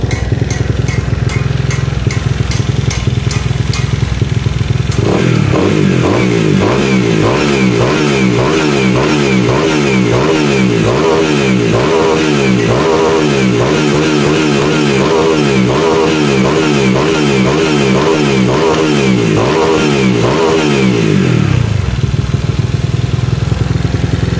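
A Honda Vario scooter with a 59mm bore-up engine, built for bracket drag racing, idles and then revs hard in repeated loud bursts for about sixteen seconds before settling back to idle.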